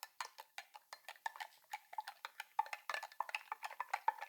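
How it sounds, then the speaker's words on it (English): A spoon stirs preworkout powder into water, clinking quickly and steadily against the container in a near, rhythmic series of light taps with no voices. "Now I'm just going to mix it up."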